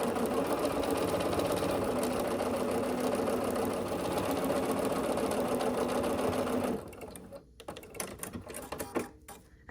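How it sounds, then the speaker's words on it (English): A sewing machine stitches the two outside lines of a four-at-a-time flying geese quilt unit, humming in a steady rapid whir for several seconds. It then stops, leaving a few soft handling clicks and rustles. "you're going to sew on the 2 outside lines"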